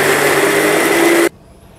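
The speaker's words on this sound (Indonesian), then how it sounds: "Kita blender bumbu-bumbunya, ada bawang merah, bawang putih, cabai rawit dan cabai merah besar." A kitchen blender grinds shallots, garlic, bird's eye chilies, large red chilies and candlenuts into a spice paste, giving a loud, steady motor whir that cuts off abruptly after about a second, leaving near silence.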